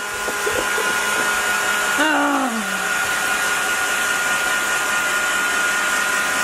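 Steady, loud whoosh of a hair dryer blowing air over a wet guinea fowl, running continuously throughout, with a brief voice-like tonal sweep in the middle.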